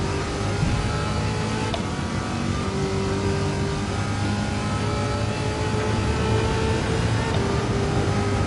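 A Corvette C8 engine in Gran Turismo 7 drones loudly and continuously at high speed, a steady roar that stays even throughout, with no voices over it.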